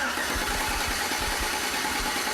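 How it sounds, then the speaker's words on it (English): A car's starter cranks the engine during a starter amperage draw test, a steady rhythmic churning whir that stays loud and close throughout. "I'll have Chase go ahead and crank it for about 4 or 5 seconds."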